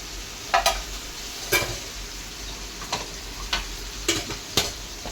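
Mushrooms fry in oil in a kadhai, a soft steady sizzle underneath while a spoon scrapes and clacks against the pan in several separate stirring strokes, fairly quiet and close, with no talking.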